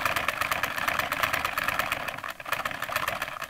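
A small Lego vacuum engine is turned by hand at roughly its idling speed, giving a fast, even mechanical chatter of rapid repeating strokes, close up and fairly quiet, with no one speaking.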